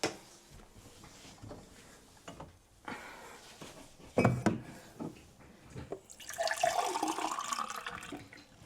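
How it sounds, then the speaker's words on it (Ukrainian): Water is poured into a glass at home, a short splashing rush that follows a few soft knocks and handling clatter, fairly close and with no talking. "І налью собі водички."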